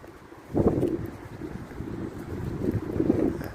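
Gusty wind buffeting the microphone with a low, rumbling roar that rises and falls, no voices.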